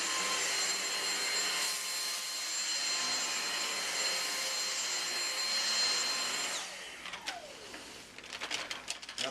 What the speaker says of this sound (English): Now let's see how the vacuum handles something a little bit coarser.